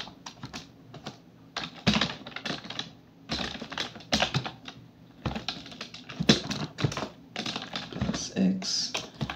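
Quick bursts of keystrokes on a computer keyboard while a terminal command is entered in Kali Linux, clicking in close, rapid clusters separated by brief pauses, with a voice speaking now and then.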